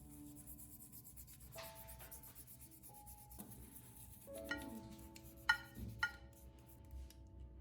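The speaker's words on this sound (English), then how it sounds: "just use an old toothbrush to gently scrub the surfaces and corners of the" An old toothbrush scrubs rust off scissors, light bristly scrubbing and rubbing against metal in short uneven strokes with occasional small clinks, close by and fairly quiet.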